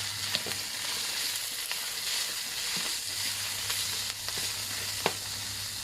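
Shallots and fermented pork roasting in oil in a pan for a Shan curry, a steady bright frying hiss with occasional soft stirring scrapes and pops, close and continuous, no talk.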